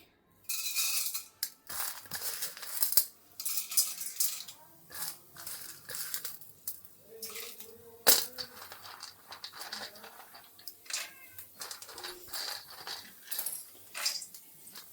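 Roasted peanuts, copra, curry leaves and mustard seeds go into a hot pan for Melukote puliyogare gojju and are stirred, making repeated close, dry crunching, rattling and scraping bursts in an uneven rhythm, with faint voice in the background.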